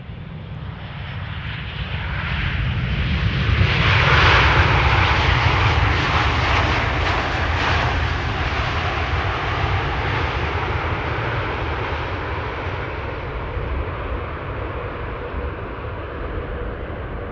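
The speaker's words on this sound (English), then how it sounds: "Next after this will be JetBlue. Flight 631 arriving from Boston," JetBlue jet airliner from Boston landing at Amsterdam Schiphol's Polderbaan runway, a rising, nearing jet roar peaking about four seconds in, then a long sustained rumble slowly fading as it passes.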